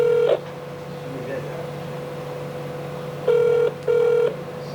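A telephone rings in short electronic bursts during a livestream, one burst at the start and two more near the end, sounding close and clear over quiet room noise.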